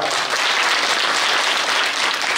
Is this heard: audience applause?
yes